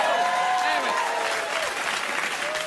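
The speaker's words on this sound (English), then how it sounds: "Smattering of applause for Salvatore Dali." Studio audience applause on a late-night talk show, a steady wash of clapping with voices and laughter heard over it.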